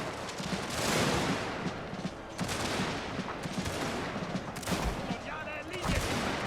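Gunfire in the strategy game Scramble for the Far East with a Prussian army, rapid crackling volleys of distant and mid-range shots overlapping in dense bursts, several sharper reports standing out.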